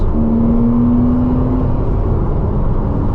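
A Porsche heard from inside the cabin while driving, with a steady, loud engine drone and road roar under acceleration that holds evenly throughout, with no talk.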